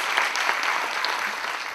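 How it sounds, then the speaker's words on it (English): An audience at an awards event for the Global Teacher of the Year applauds steadily, a dense, continuous clapping from a large crowd with no voices rising above it. "So I'd like to applaud Debbie and Brian sincerely."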